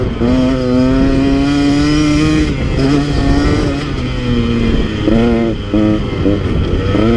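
A KTM 150 XC W two-stroke dirt bike engine revs hard and loud up close, climbing in pitch through the gears with brief dips at each shift, in a steady buzzing roar.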